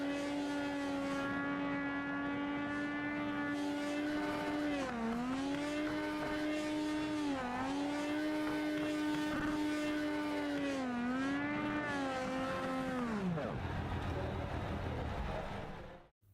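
Race car engine from the iRacing sim racing game, a loud sustained harmonic drone that rises and falls through several gear shifts before cutting off near the end.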